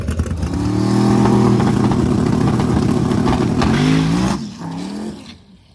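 A race car makes a pass down the track, its engine roaring loud and steady for about four seconds, then the note shifts and fades as the car pulls away.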